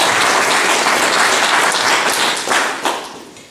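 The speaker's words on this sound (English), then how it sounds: "We'll be able to hear some applause for that." Dense audience applause at a film showing in New Braintree, Massachusetts, loud and sustained from the start, then gradually thinning and fading by the end.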